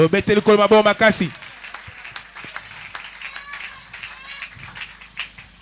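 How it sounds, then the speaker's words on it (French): A French-speaking church congregation applauds and cheers for the Lord during a sermon, a brief voice first and then a sustained crackling wave of clapping and shouts that stays at moderate loudness. "Acclamons très fort pour le Seigneur"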